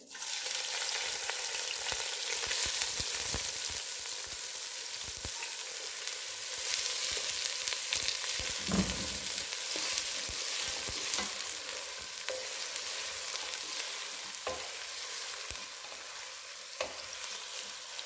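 Sliced onions fry in hot oil for chicken biryani, giving a steady, loud, close sizzle throughout with occasional soft stirring knocks and no talk.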